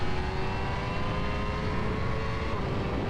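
A racing motorcycle accelerates hard on the Castellet circuit, its engine a loud, continuous roar with rising harmonic whine under heavy wind rush, close and unbroken throughout.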